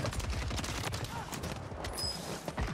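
Rapid SMG fire in the video game Fortnite, a quick stream of closely spaced shots rattling steadily for a few seconds, loud and near, with talking mixed in.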